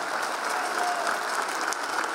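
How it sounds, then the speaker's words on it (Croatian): An audience claps for the Žejane bell-ringers at a carnival marathon, a dense, even burst of applause that carries steadily through the moment. "I sad vas moram čuti aplauz i za Zvončari Din Žejen."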